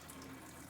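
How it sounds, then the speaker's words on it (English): A kitchen faucet fitted with a Synergy H2 hydrogen filter runs in a steady, soft, even stream of water, alone and fairly quiet. "So the water will not flow through until I turn on the faucet."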